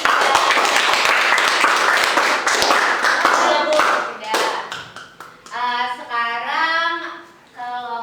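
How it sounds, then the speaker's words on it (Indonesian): A classroom group claps for about four seconds, dense close applause with scattered sharp taps, fading out before people start talking over a quieter background. "Oke, tepuk tangan untuk kelompok 3."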